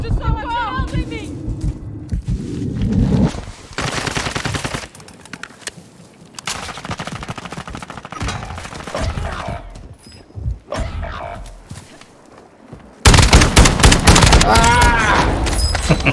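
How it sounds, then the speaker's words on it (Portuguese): Gunfire in the Call of Duty Modern Warfare II Warzone video game, heard as loud bursts and rapid automatic volleys with booming impacts between quieter gaps, ending in a sustained barrage. "Estão atirando em mim."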